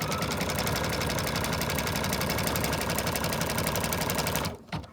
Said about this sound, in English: We're going to hit go again, and it's going to go stitch across this with a satin stitch, zigzag stitch rather.